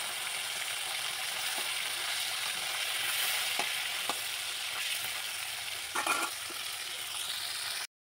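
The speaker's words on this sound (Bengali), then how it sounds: "তিনটে তিনটে করে মাছ ভেজে নেবো নাহলে ভেঙে যাবে" Fish frying in hot oil three at a time, a continuous fine sizzle with occasional clicks and a brief louder spatter near the end before it cuts off.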